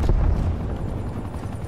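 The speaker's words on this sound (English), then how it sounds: "Feast your eyes upon the full power of my helicopter." A helicopter in Call of Duty: Black Ops Cold War gameplay produces a continuous heavy low roar with faint pulsing, loud and dense, with no talking.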